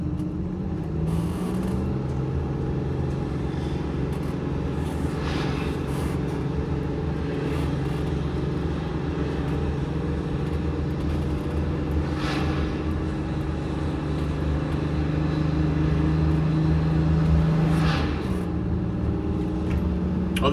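A Flxible bus engine drones loudly and steadily from inside the vehicle, a heavy low rumble throughout with slight swells in pitch as it rolls along.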